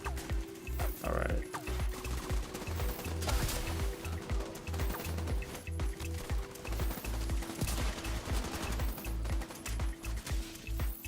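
Rapid gunfire in The Division 2 crackles in dense repeated bursts, loud and continuous, with a voice talking over the shots.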